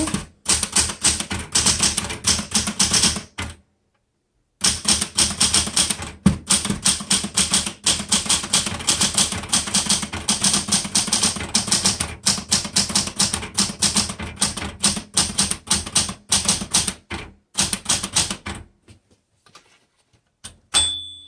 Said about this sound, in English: Let's go ahead and keep typing just a little bit longer.